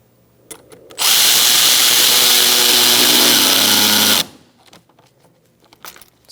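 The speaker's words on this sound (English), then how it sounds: "now we're going to tighten up our hose clamp" A power tool tightens a hose clamp on a 2012–2018 Ford Focus, letting out one loud, close, continuous whir of about three seconds, with a few clicks and handling knocks before and after.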